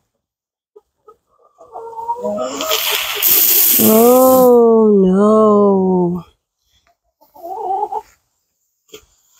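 Chickens in a coop letting out a long, loud drawn-out squawking call followed by a shorter cluck, close by, with a brief voice in between.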